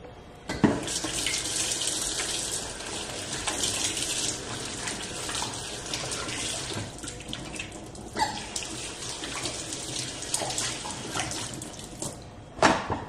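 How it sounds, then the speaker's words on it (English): A sink faucet runs steadily as hands are washed under it in a home kitchen, with a close, continuous splashing hiss and brief shifts as the hands move through the stream. "let me wash my hands"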